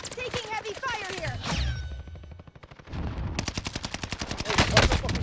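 Rapid bursts of automatic gunfire rattle through a combat video game, with a voice speaking over the opening before dense, fast repeating shots hammer on loudly to the end.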